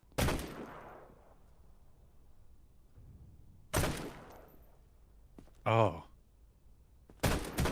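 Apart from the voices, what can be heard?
gunfire from video game Quarantine Zone: The Last Check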